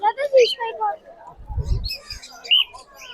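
Hand-tame cockatiels call with bright chirps and whistled squawks at a crowded pet bird market, the calls scattered and mid-distance while people talk throughout and a brief low rumble passes midway.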